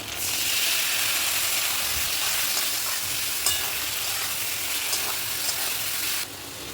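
Potatoes fried and stirred in a pan with spice paste mixed with water, a loud continuous sizzle with scraping stirs throughout that drops off abruptly near the end.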